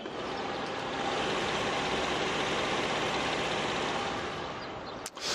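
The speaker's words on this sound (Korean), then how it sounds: "엔진 소음 먼저 들려드리면은 굉장히 정숙한 엔진 소음 만나보실 수가 있고요" A Hyundai Grandeur HG engine idles steadily and smoothly, humming continuously at close range with a soft broadband whir, ending in a brief click near the close.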